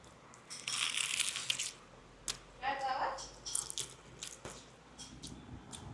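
Toasted bread eaten with a cheese omelette at breakfast gives faint, scattered crunchy bites and soft chewing squishes, close to the microphone but quiet, with a few murmured words in between.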